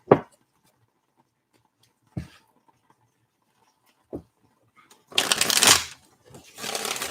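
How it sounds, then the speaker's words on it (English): Tarot cards are shuffled, a few isolated taps and riffles followed by two longer, crisp shuffling bursts, close and otherwise quiet. "But I'm going to shuffle these ones because I like these for my clarifiers."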